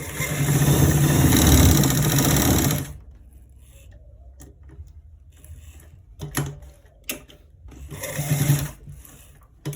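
An electric sewing machine stitches a trouser left front pocket, with a loud steady whirring run at the start followed by quieter pauses and short bursts of stitching.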